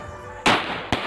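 Two sharp Diwali firecracker bangs outdoors in a village during rainy season, the first louder with a short crackling tail, the second quick and close, over quiet background.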